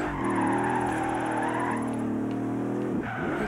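A car drifts in Forza Horizon 3, its engine holding a loud, steady whine while the tires screech through the slide, close and unbroken.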